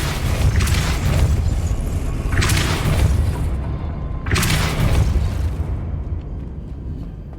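A Depulso spell cast in the Hogwarts Legacy video game, heard as three loud, booming force blasts spaced about two seconds apart over a constant low rumble, with no talking.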